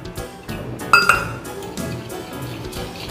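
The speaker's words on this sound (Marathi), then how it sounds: "हे थोडं थोडं पाणी टाकून आपल्याला बॅटर मिक्स करून घ्यायचं आहे." Gram flour and rice flour batter stirred with water in a bowl for vada usal, with a few sharp clinks of a spoon against the container over a soft background.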